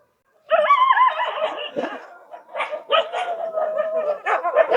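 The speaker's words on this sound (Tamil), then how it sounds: "7 நாய் மொத்தம் 7 நாயா" Several dogs from a pack of seven, kept by an elderly couple at their home in Kaluvanchikudy, bark and yip close by in a loud overlapping burst, then a second, more broken run of barks.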